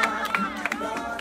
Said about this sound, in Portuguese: Uma salva de palmas para a melhor equipe do mundo